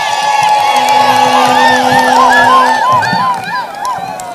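An outdoor political rally crowd roars close and loud, with whoops, shrill whistling tones and cheering from many voices, easing slightly toward the end.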